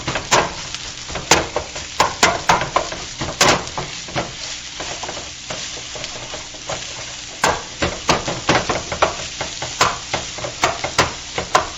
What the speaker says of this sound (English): We're gonna start to break it up here a little bit.